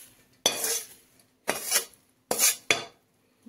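A spatula scrapes and stirs dry poha chivda around a kadhai in four separate rasping strokes, each about half a second long, with quiet pauses between them.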